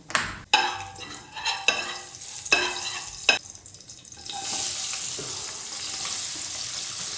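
Onion stir-fried in a home kitchen pan with cumin and mustard seeds, a few sharp scrapes and clacks of stirring giving way to a steady, close hiss of sizzling oil.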